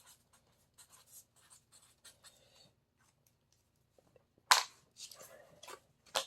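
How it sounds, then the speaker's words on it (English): A marker writes a label reading on waterproofing materials during an adhesive sealant test, with short squeaky scribbling strokes in quick bursts, close and quiet, then a louder rustle and a few more strokes after a brief pause. "let me just write rapid set here."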